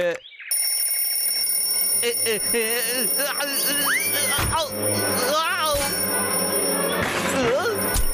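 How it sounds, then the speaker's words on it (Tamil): A smart alarm clock rings in a cartoon, a bright steady electronic tone running through most of the stretch while lively voices and comic sound effects play over it. "அந்த ஸ்மார்ட் அலாரம் கிளாக்"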